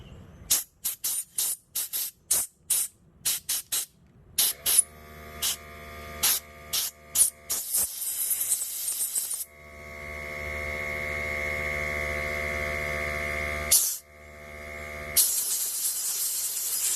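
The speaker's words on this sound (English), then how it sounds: "I know it's going to be a little loud because my air compressor's on" Loud bursts of compressed air spray in short blasts into a 2-stroke carburetor, then longer continuous hissing runs, with a steady air compressor motor hum underneath.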